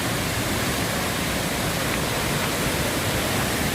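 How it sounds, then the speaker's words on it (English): A flooded river in Mt Lebanus, St Thomas rushes in a loud, unbroken broadband roar with no pauses, filling the whole stretch like heavy whitewater. "So I'm gonna show you guys the river."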